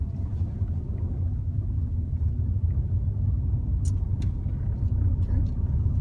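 Car accelerating up to about 20-30 mph in third gear during a driving lesson, a steady low engine and road rumble running throughout at an even level.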